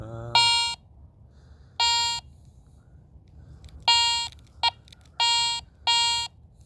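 A metal detector swept over a buried coin at night gives six sharp, loud electronic beeps in short bursts, with a quieter hiss between them.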